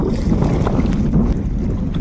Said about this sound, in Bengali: নদীতে যা ঢেউ হচ্ছে, নৌকা বেয়ে যাওয়াটা খুব কষ্টকর